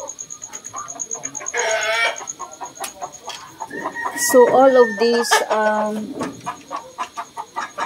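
Rhode Island Red chickens loose outside around a chicken coop by the jungle give repeated clucks and squawks, and a rooster crows once, under a person's nearby talking.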